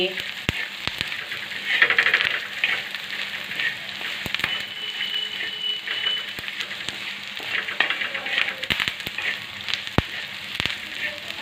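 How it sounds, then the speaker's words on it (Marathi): An onion and coconut paste sautés in a pan, crackling and sizzling continuously with repeated spoon scrapes and taps against the pan surface. "आता आपलं हे कांद्याचं पूर्णपणे वाटण परतून झालेलं आहे"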